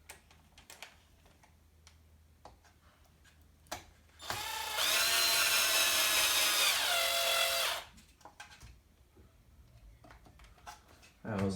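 A power screwdriver drives screws into the servo mount of a Pro-Line Pro-Fusion 4x4 1/10 RC truck kit, giving one loud, steady whir of several seconds between quieter clicks and handling noises.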